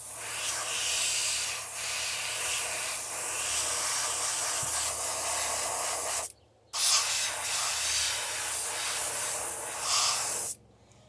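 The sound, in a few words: airbrush spraying paint onto a crankbait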